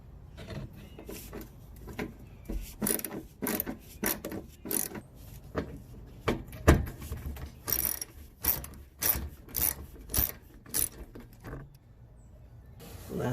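Screws being backed out of a Toyota MR2 Spyder headlight assembly, giving a series of close, quiet ratcheting clicks and brief scraping bursts in an irregular rhythm, with short pauses between turns.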